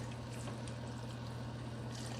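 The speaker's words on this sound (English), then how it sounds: "Now what we're going to do is add about 6 cups of chicken stock." Chicken stock pours into a cooking pot in a home kitchen, making a steady, continuous splashing stream that stays even and unbroken for the whole moment, with a low hum underneath.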